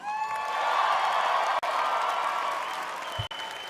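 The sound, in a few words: audience applause and cheering at pageant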